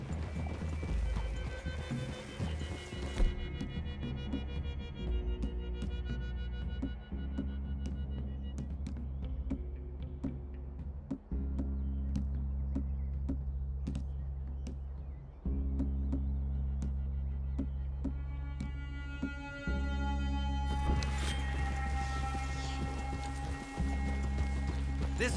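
In a western video game, horses walk across a forest clearing with a steady clip-clop of hooves. The sound is faint and rhythmic and sits under a low, continuous hum of game music and ambience.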